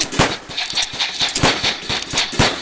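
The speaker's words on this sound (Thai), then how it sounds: "ยิงเป็นลูกไฟบอล" Fireballs shot in the Minecraft Nether, a rapid, loud string of punchy blasts and crackles firing in quick succession from the video game.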